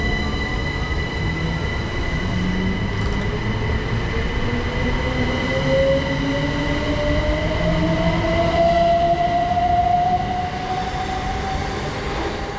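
A train pulls out of Streatham Common station on the service to East Croydon, a continuous rumble of wheels with rising motor whine and faint rail squeal, steady and fairly close throughout.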